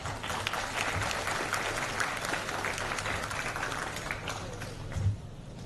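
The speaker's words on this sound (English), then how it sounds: "Let us now give a warm round of applause to all our esteemed dignitaries on the stage" Applause from an audience at a college orientation day for dignitaries on stage, a steady, moderately quiet wash of clapping with some low background rumble, continuing evenly for several seconds.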